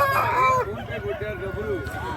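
A rooster crows at the Nallapadu rooster market, a short raspy call up close, followed by a softer trailing cry over background market chatter and low murmuring.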